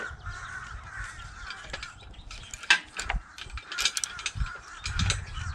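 A chain hoist rattles and clicks in uneven ratcheting bursts while lifting a vehicle drivetrain out, loud and close, with sharp metallic clanks mixed in.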